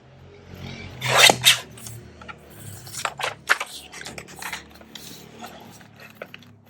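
Scissors snipping around a paper image for an Edith Holden ephemera craft, a loud burst of rapid cuts early on followed by a run of shorter, lighter snips and paper rustles, close by with no talking.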